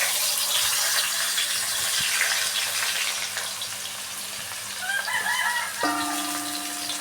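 Sliced onions sizzle in hot oil in a pan for kothu porotta, a loud, steady hissing crackle close up, with a chicken clucking faintly in the background near the end.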